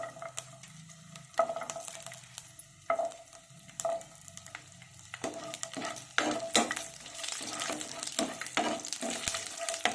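Chopped ginger and garlic frying in a pan for a dhaba-style paneer curry, a crackling sizzle with intermittent stirring clatter that grows busier and louder toward the end.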